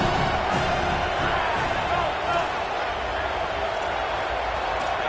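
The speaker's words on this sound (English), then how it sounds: "how nice is it to have the home crowd going absolutely bananas" A home crowd roars and cheers loudly in a college football video game, a dense, continuous wash of stadium noise that holds steady throughout.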